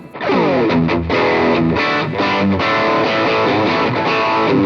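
Electric guitar on a Soloking MT-1 Custom played through a boost pedal into high-gain distortion pedals, loud saturated chords and riffs ringing continuously with heavy sustain, close and alone.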